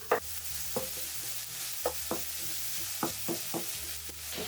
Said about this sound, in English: now I'm going to increase the heat to medium and add 50 grams of ground pork